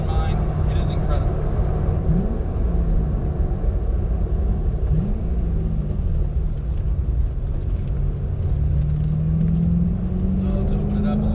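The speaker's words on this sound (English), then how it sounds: "so you do hear that road noise" Inside a C6 Corvette Z06 on the move, a constant low engine drone and road roar fill the cabin, with the engine pitch sliding up and down through gear changes.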